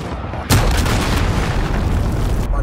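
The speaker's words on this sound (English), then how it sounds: "Enemy cruise missile incoming." A cruise missile strikes in Call of Duty Modern Warfare with a sudden heavy boom, followed by a loud, dense rumbling roar that sustains for about two seconds before cutting off.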